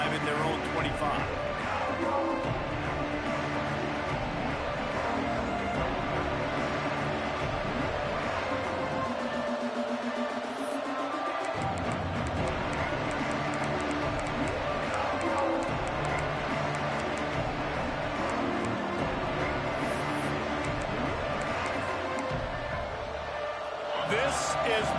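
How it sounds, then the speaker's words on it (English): Stadium crowd in the video game NCAA 26, a continuous dense roar of murmuring fans that stays loud throughout, with game commentators talking over it. "This crowd ready to make its presence known."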